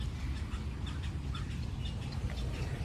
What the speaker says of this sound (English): Here I'm at a pond. I can hear different kinds of birds.